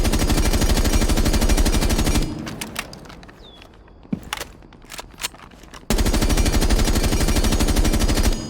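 Rapid automatic rifle fire with a flash hider and vertical grip in Rainbow Six Siege, loud sustained bursts at the start and end with a quieter gap of scattered shots and clatter between.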